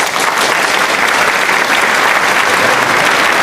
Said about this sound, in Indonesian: beri tepuk tangan yang meriah untuk saudari kita Eki Rapsodi